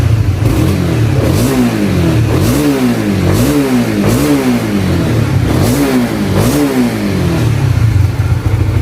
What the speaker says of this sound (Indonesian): Dan kita nyoba digeber-geber.